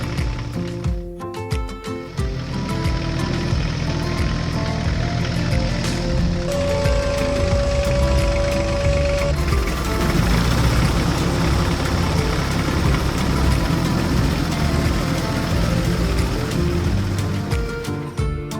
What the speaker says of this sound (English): Its powerful engine purred at full power, and the straw baler began to work with the precision of a Swiss watch.